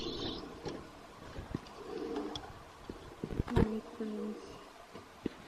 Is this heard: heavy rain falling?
no